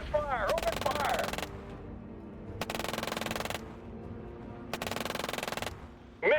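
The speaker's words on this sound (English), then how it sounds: "Open fire! Open fire!" Video game gunfire in Shadow Empire, three long bursts of rapid automatic fire separated by short pauses over a low background hum, with brief synthetic chirps at the start and end.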